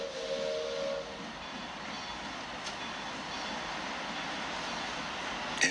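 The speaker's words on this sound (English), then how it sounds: "the wheels of the train of the car begin slowly moving on the" A train starting to move on its tracks as a sound effect: a steady, full hiss and rumble throughout, with a brief whistle-like tone at the start.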